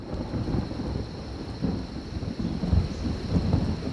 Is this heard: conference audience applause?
no